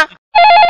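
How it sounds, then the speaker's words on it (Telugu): A short, loud electronic phone ring, a bright trilling tone that begins abruptly after a brief silence. "అన్నా ఇంకో ఫోన్ మోగుతుందన్నా?"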